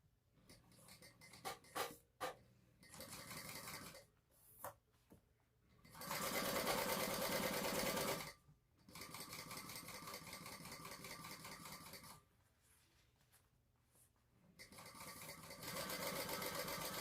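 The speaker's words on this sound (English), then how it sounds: "I'm going to start my basting here just so that I can catch my Made in Canada label" A home sewing machine runs in several bursts, basting a Made in Canada label onto a sling bag. The long steady stitching runs are close and loud, broken by short pauses and some handling noise, and nobody speaks.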